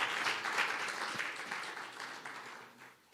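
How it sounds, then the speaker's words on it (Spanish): A church congregation claps together in a sustained, moderately distant round of applause that gradually fades toward the end. "Dale un aplauso al Señor"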